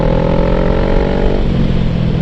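A motorcycle on new tires accelerates hard with a loud, close engine drone whose pitch climbs and then shifts, under heavy wind rumble.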